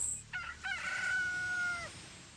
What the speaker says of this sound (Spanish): Con el primer canto del gallo